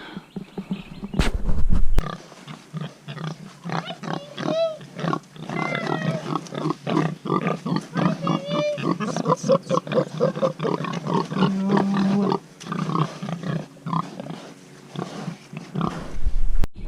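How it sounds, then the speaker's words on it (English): Pigs grunting and snorting close by, a steady run of short guttural calls with a few higher squeals, continuing for most of the stretch. "Here's our big pigs. They are destroyers of everything."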